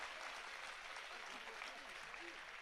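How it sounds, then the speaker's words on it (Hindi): Thin, half-hearted applause from an audience at a Hindi comic poetry recital, a steady patter of clapping with a voice faintly over it. "तालियां कमजोर आपकी"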